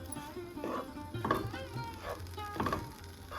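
Spatula scraping and stirring a lentil, carrot and bean usili mixture in a pan over a medium flame, in a few uneven bursts over a faint sizzle.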